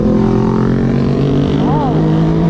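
A big motorcycle passes on a road in Baguio City, its loud, steady engine drone close by under continuous background noise, while a voice speaks over it.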